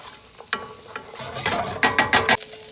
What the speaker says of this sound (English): We're gonna go ahead and add our carrot and our celery here.